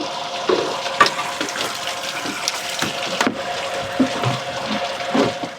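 Water running steadily into an underground cistern storage tank, a continuous gushing fill with a few soft knocks and splashes over the whole stretch, moderately loud and close with no voices.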